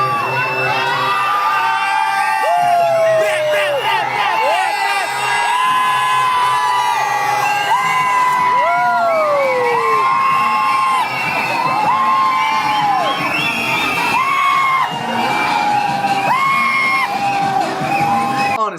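A packed movie theatre crowd at a screening cheers, whoops and yells continuously, with high shrill whistles and shouts rising over a dense roar of voices.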